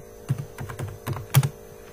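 Computer keyboard typing during Turbo Pascal programming: a short run of close, crisp key clicks in an irregular rhythm, with a few louder strokes, over a faint steady mains hum.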